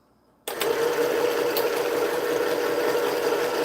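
A sewing machine's bobbin winder spins thread onto a bobbin, starting abruptly after a brief silence and then holding a steady, close whirring hum.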